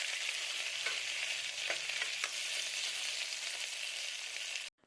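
Onion, potato and brinjal sauté in a pressure cooker over a high gas flame, giving a steady close sizzle with a few soft stirring scrapes before it cuts off abruptly at the end.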